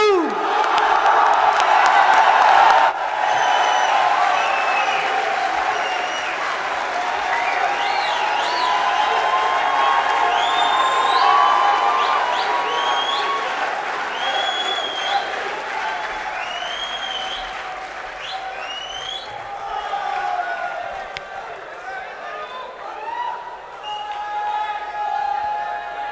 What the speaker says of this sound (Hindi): आप सबकी भरपूर तालियों में उस शख्स को दावत दे रहा हूं